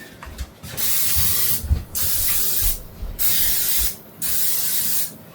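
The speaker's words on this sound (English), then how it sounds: "Now what we want to do is spray this" Four bursts of cooking spray from an aerosol can onto the plates of a commercial waffle maker, each a sharp hiss about a second long, with brief pauses and light handling sounds between.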